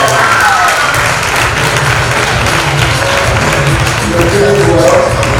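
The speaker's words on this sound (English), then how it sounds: "Let's please clap hands for Government Girls Secondary School." A crowd gives loud, sustained applause and hand clapping for Government Girls Secondary School at a Nigerian school event, with a murmur of voices and cheers mixed in, dense and unbroken throughout.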